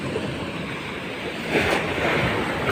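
Steady surf and ocean waves washing against a stone and cement seawall in Cebu, with a swelling wash of water midway and wind noise on the microphone.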